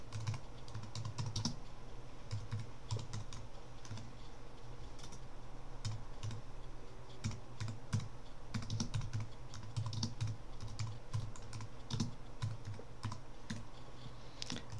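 A git commit message is typed on a computer keyboard as a steady patter of close, quiet keystrokes. The clicks come in uneven bursts with brief pauses for about fifteen seconds, and no one speaks.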